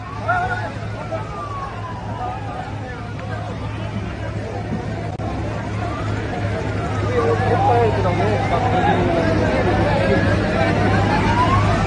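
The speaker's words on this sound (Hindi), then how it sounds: "फायर ब्रिगेड पहुंच गई जी" A fire brigade engine's wailing siren sweeps up and down repeatedly as the truck arrives at a fire near the Singhu border in Sonipat, over a steady engine hum and crowd babble, growing louder toward the end.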